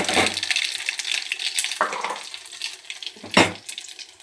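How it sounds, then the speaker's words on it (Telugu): Tempering seeds crackling in hot oil in a pan, a bright sizzle with sharp bursts of spattering and a couple of sudden loud pops. "ముందుగా తాలింపు గింజలు అయితే వేసుకున్నా."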